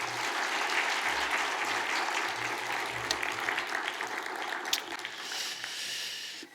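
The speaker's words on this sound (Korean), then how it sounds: "우리 보내주신 하나님께 감사의 박수로 맞이하겠습니다." A church congregation at a Korean inaugural worship service applauds to welcome the preacher, with steady, dense clapping filling the room and carrying on without letup before slowly thinning near the end.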